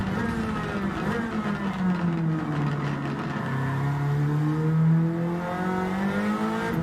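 A turbocharged race car engine in Gran Turismo 7 revs at high RPM, a steady loud whine with its pitch rising and falling smoothly across the passage, alone with no talk.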